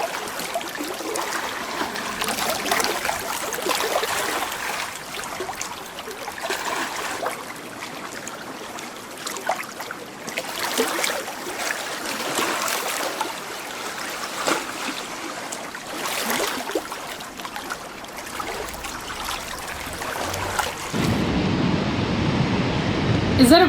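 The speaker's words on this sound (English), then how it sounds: "Oh, the sounds of the lake, the loch." Gentle waves lap on a small beach at a Scottish loch, a soft continuous wash with rising and falling swells, close by, ending in a sudden change to a different muffled sound.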